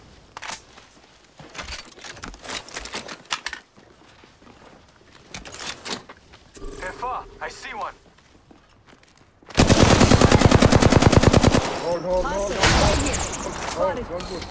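Gunfire in a battle royale video game, scattered single shots and clicks at first, then a loud sustained burst of rapid automatic fire followed by more shots.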